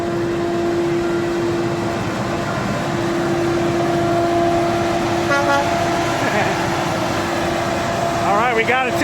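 A high-railer rail vehicle sounds its horn in a short series of loud, wavering toots near the end, over a steady hum of background noise with a constant tone, and people talk nearby.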